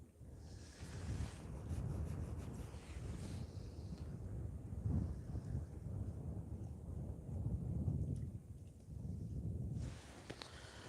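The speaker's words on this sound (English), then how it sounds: "it's a bit windy. Very windy in actual fact." Strong wind gusting at a fishing lake, buffeting the microphone in low rumbling surges that rise and fall throughout, fairly quiet overall with no talking.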